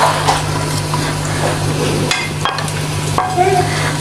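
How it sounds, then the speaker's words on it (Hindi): Chopped garlic, ginger and green chillies fry for beef keema in a pan, sizzling steadily under stirring, with a few sharp knocks of a utensil against the pan. "इसके अंदर जाएगा ये चॉप लहसुन, चॉप अदरक, हरी मिर्चें, ये सब इस तरह ही जाएगा।"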